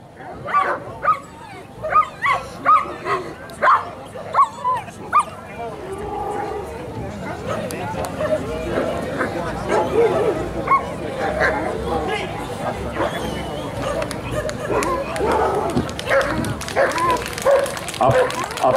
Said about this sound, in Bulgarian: Сега на вашето внимание ще ви представим куче Икар със собственик Игор Бакун.